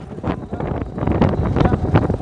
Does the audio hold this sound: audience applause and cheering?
no